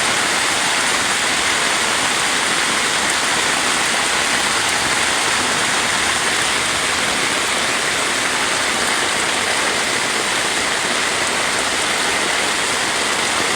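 Floodwater rushes along a road in a loud, constant roar with no letup, like a flooded stream pouring past close by, during Tropical Storm Elsa in Jamaica.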